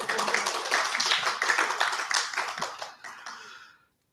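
An audience claps together in a burst of dense, rapid applause that holds for about three seconds, then thins out and stops.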